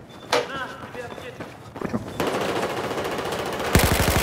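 Machine gun fire in a multiplayer video game: short bursts and then a sustained, loud rattle of rapid shots building toward the end, with a voice talking over the early part.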